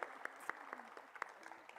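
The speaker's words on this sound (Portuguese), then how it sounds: "Salva de palmas." Audience applause welcomes a speaker at a conference session: quiet, somewhat distant clapping in a loose, fairly regular rhythm, without cheering.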